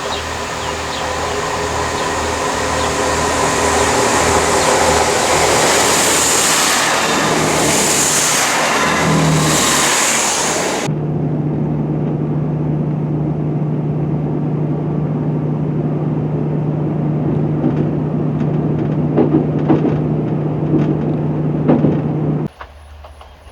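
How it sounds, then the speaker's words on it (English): A train on the Chiltern line runs over jointed track, loud and close: a dense roaring rumble gives way to a steady droning hum broken by repeated rhythmic clicks, then cuts off abruptly near the end. "This is the only stretch of line on the Chiltern network where trains encounter jointed track"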